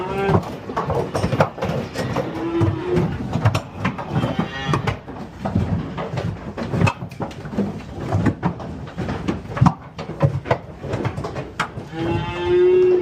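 Cattle, including Herefords, being unloaded from a livestock trailer at a ranch, with loud, overlapping moos from several animals and constant clatter and thumping of hooves and metal throughout.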